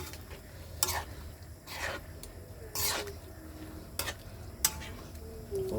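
Bihon noodles with cabbage and a little pork stirred in a pan, faint sizzling under several sharp scraping strokes of a utensil at irregular intervals.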